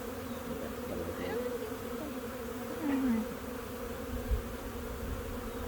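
Honey bees buzz steadily during a hive inspection, a dense close drone with individual bees whining past the microphone, no talk.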